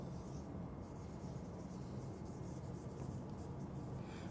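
Marker or pen writing on a board during a magnetism lecture, a faint continuous scratching and rubbing under a steady hiss with no talk.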